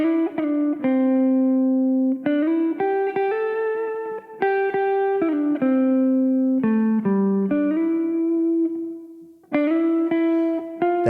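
A slow, sliding pentatonic melody on an electric guitar, its sustained notes gliding between pitches with effects-laden tone, played loud and alone with a couple of brief pauses between phrases.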